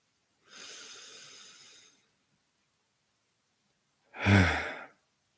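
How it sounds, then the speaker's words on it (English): A slow, deep breath drawn in and then released in a heavy, audible sigh, close and quiet in a calm guided meditation setting, with a pause between the inhale and the exhale. "And one more deep breath here."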